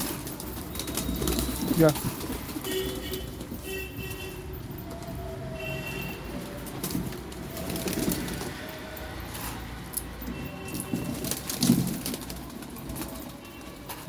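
Pigeons and chickens feeding together in a yard give occasional soft coos amid pecking and scuffling, fairly close, with someone talking intermittently over the scene.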